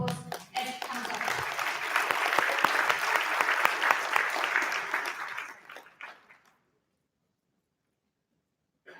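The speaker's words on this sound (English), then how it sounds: "So can we give him a big round of applause as he comes up?" Audience applause at a 2019 conference session as a speaker comes up to the stage: dense, steady clapping from a crowd for about six seconds, then fading out to silence.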